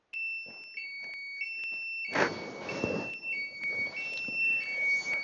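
A fall sensor's electronic emergency alarm sounds in repeated steady beeping tones, then continues over a burst of rustling and clatter, the high tones pulsing on throughout.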